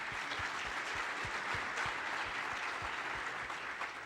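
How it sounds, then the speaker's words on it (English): An audience at a factory-of-the-future conference applauds panelists, producing faint, steady clapping from a room of people with no talk over it. "Can we have a round of applause to our panelists for sharing your perspective?"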